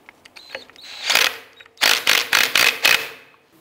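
A bolt on the strut and spring assembly of a 2002-2007 Jeep Liberty being snugged down, its threads coated with anti-seize, with a few light clicks followed by a run of sharp, loud ratcheting bursts close by.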